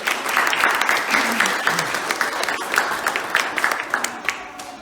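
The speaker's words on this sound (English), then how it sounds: "A big round of applause for each and every." An audience applauds the children on the final day of a Shiksha learning camp in Columbus, Indiana: a steady, moderately loud round of clapping from a crowd that carries on for several seconds.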